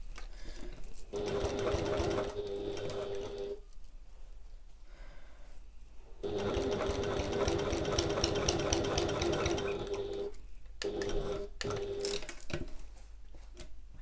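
A domestic sewing machine stitches around the corner of an extra pocket in bursts of steady rapid whirring, with a pause between runs and short stops near the end.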